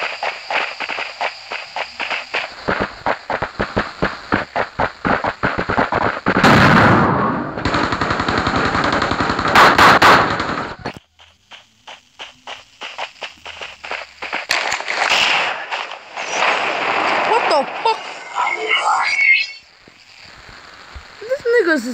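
Rapid bursts of automatic gunfire crack through a video game firefight, with footsteps and running between volleys and excited voices talking over the shooting.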